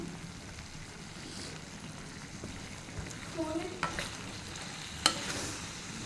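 A pumpkin curry with turmeric, chilli powder, coriander and cumin powder is mixed in a pan: a low, steady sizzling hiss with a few sharp spoon scrapes and clicks toward the end, close by, with no voices.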